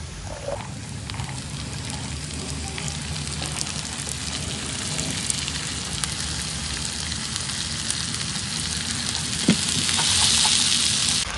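Khmer vegetable sauté sizzling steadily in a hot frying pan, a dense continuous hiss that swells louder near the end, with a few faint clinks and no voices.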